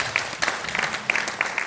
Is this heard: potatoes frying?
no